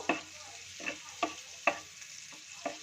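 Garlic frying lightly in butter in a pan, a soft continuous sizzle broken by several sharp stirring scrapes at a loose, irregular pace, close and fairly quiet, with no talk.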